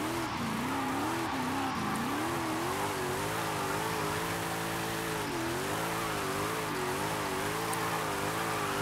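A small car driven hard in the Forza racing game, its engine droning steadily with wavering revs as it rises and falls through corners, loud and continuous, with no talk over it.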